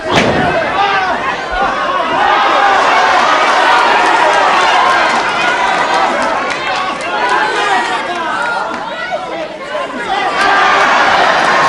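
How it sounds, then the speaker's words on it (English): Crowd at a British wrestling match in Solihull, 1973, a dense, loud roar of many voices shouting and calling out without pause, with occasional thuds from the ring. "The crowd here at Solihull really advising the Italian every move."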